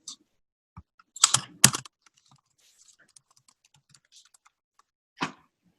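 A few sparse keystrokes on a computer keyboard while a password is entered, with a short cluster of clicks near the start and one isolated tap near the end, close and fairly quiet.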